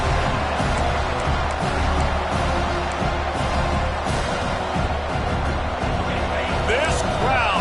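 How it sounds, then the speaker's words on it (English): A football stadium crowd roars in a dense, continuous wall of noise that holds steady and loud from start to finish, with no break or swell. "This crowd, full throat, spreading the eardrums and letting them know it's going to be a long day."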